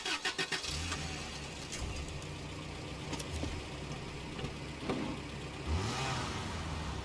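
Falcon truck engine cranking and starting in the SnowRunner game, opening with a burst of rapid starter pulses, then settling into a steady, close, rumbling idle that swells briefly near the end.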